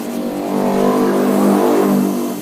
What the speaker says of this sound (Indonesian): Kita gerenda paku ripetnya itu ya.